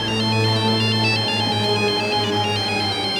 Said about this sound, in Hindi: ठीक तरह से ड्यूटी भी नहीं करने देती, बार बार फोन कर दे रही थी।